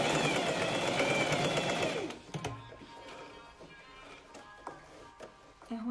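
Sewing machine stitching a blouse, a fast loud mechanical whir for about two seconds that then stops, followed by quieter handling clicks and rustles.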